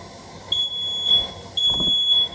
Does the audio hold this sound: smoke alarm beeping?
yes